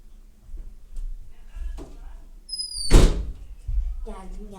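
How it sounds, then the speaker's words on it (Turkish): A door is shut with a single solid thunk midway, preceded by footsteps and small handling noises, with a voice heard afterward. "kapıyı kapatıp geliyorum bekleyin"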